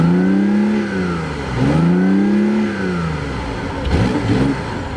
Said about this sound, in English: the sound of the gas motor is pretty aggressive for a 3-cylinder